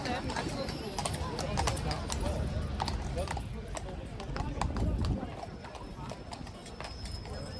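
Hooves of King's Guard horses clip-clop on hard ground in an uneven, shuffling rhythm, fairly close, with a voice talking over the steps.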